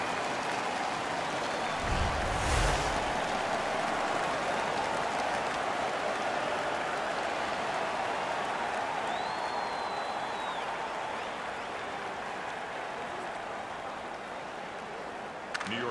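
A steady, roaring crowd in a hockey arena fills the background of NHL 15, a broad continuous cheer after a fight won by the Rangers, holding at an even level throughout with no talk over it.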